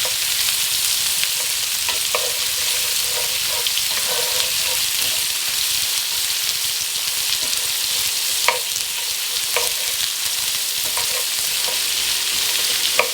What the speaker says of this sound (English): You want to scrape up all of those delicious brown bits on the bottom of your pan.